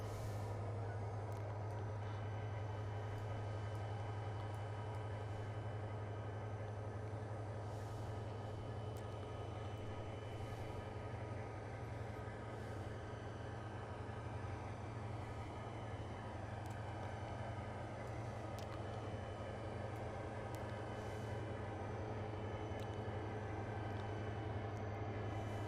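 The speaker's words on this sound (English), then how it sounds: "We'll stop the train." A train in the Trainz railway simulator at Donnybrook slows to a halt, a steady low engine drone and rumble running throughout with faint metallic squeals and hisses above, continuous and fairly loud with no talking.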